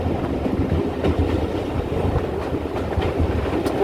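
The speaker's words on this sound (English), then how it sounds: "4247 on the Paignton Dartmouth steam railway, headed down the Gudgerington Bank" Steam locomotive 4247 on the Paignton and Dartmouth Steam Railway heading down a bank, heard up close as a steady rumbling roll of wheels and coaches with faint rhythmic clicking.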